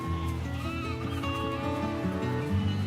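Sheep bleats in a sheep herding simulator game trailer, several animal calls rising over a steady bed of music at moderate loudness.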